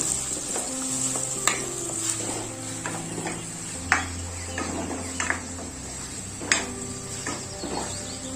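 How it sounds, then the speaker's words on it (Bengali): Onions frying in a pan for egg korma, a steady close sizzle with occasional sharp clinks and scrapes of a spoon stirring against the metal, no voices. "পেঁয়াজটা লাল লাল করে ভেজে নেব।"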